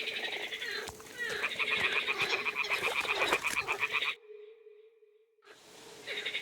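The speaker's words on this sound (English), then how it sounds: "Ah, the toads are croaking here." Toads croak in a video game world of Kingdom Come: Deliverance II, a dense, loud chorus of rapid rhythmic calls that cuts off into near silence before resuming.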